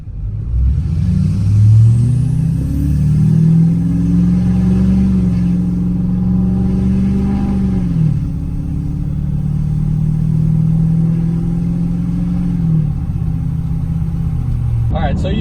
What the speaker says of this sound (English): A little stock acceleration right here.